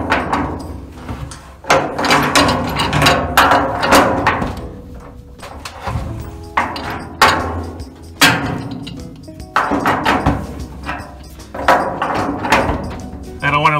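A pipe wrench works on the threaded plug of a household oil tank, giving repeated metallic clanks, scrapes and knocks in irregular bursts, close and fairly loud.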